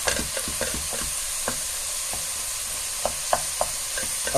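Minced meat mixture for lasagne bolognese frying in a pan, a steady close sizzle broken by repeated scraping knocks of a utensil stirring it.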